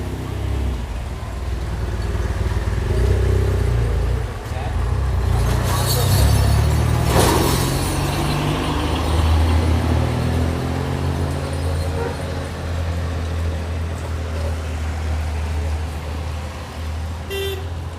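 A group of motorcycles rides past on the Mushkpuri mountain track near Nathia Gali in light rain, a sustained engine drone swelling and fading, with a few horn toots midway and no talk.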